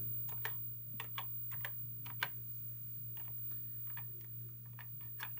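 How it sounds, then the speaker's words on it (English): Keys being typed on an OSI Superboard II computer keyboard: sparse, light clicking keystrokes at an uneven pace, close by, over a steady low electrical hum with no talking. "I'm just going to type a space"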